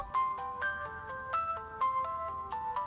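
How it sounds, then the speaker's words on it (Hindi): A mobile phone rings in a home, its melodic electronic tone repeating in short phrases with clear pauses, fairly loud and alone with no voices. "पापा का फोन बज रहा है।"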